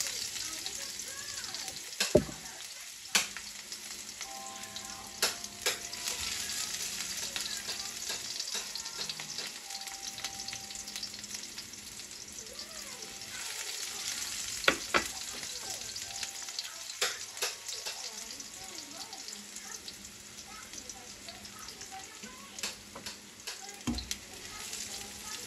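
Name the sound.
sautéing garlic and onion in a pan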